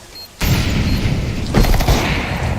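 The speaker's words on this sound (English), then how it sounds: "Throwing grenade. Incendiary." An incendiary grenade in a tactical bomb-defusal shooter bursts with a sudden loud whoosh and boom, followed by a steady roaring crackle of fire that swells again midway and burns on close by without talk.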